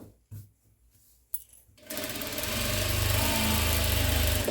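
A sewing machine stitches along the edge of a dish towel. After a few soft clicks and handling sounds, the motor starts a loud, steady, close whirring hum that runs on without talking.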